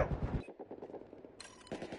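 Gunfire from Battlefield 4 rattles in quick rapid bursts and scattered shots, faint and somewhat distant, amid game noise.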